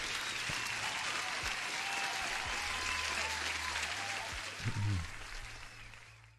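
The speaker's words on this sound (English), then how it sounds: "Wow, applause for Camille." Applause sound effect during a live futures trading stream, steady clapping from a small crowd throughout with a faint voice cutting in briefly near the end.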